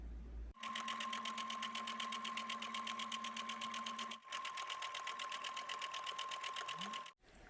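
A sewing machine stitches fabric for a bandana-style cap, running in two long steady bursts with a rapid even needle rhythm and a brief pause between them, close and clear with no talk.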